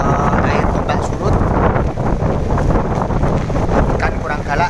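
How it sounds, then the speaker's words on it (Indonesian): Strong wind buffets the microphone on a beach while fishing, with a steady roaring rush and gusty swells throughout, loud and close, and no clear voices. "angin kencang"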